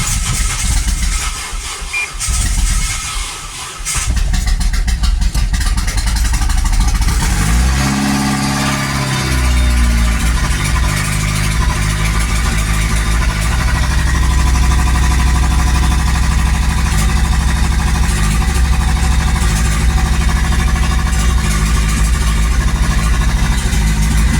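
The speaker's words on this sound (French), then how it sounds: "Elle démarre. Elle démarre." A Renault Megane 2 RS engine cranks, catches and starts after a connecting rod bearing and clutch job, then settles into a loud, steady idle that runs on unbroken close by.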